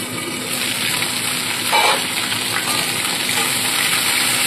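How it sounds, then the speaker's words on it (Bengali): Ginger and green chili paste fry in spattering hot oil in a partly covered pan, giving a steady, dense, close sizzle with a brief louder crackle midway. "তেল ছিটকাচ্ছে বলে একটু চাপা দিয়ে আদাটাকে প্রথমে একটু ভাজা করে নিচ্ছি"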